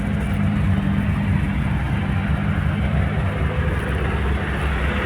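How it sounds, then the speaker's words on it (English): Old Holden engine fitted in a Series 1 Land Rover on a farm, idling with a loud, steady low rumble and even putter close by, running alone without talk. "The old Holder motor still puts along."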